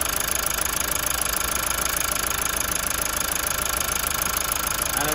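A Mazda CX5 engine, freshly fitted with a new camshaft, idles steadily close to the microphone, with a constant even rumble and a faint rhythmic ticking or knocking, running alone without any voices.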